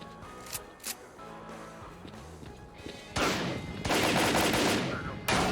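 Shotgun blasts in STALKER: Call of Pripyat, two loud broadband bursts around the middle and end with a rolling tail, preceded by quieter game sounds and small clicks.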